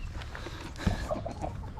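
Backyard chickens clucking softly around their water container, a faint, low murmur of farmyard fowl over steady outdoor background noise, with one brief louder cluck near the middle.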